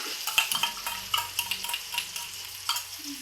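A spoon stirs sauce paste for tawa paneer in a hot pan, giving soft scraping strokes in an irregular rhythm over a light sizzle.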